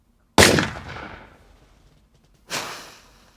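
Two gunshot sound-effect blasts, a sharp loud report with a long decaying tail followed about two seconds later by a second, softer shot, alone with no talking.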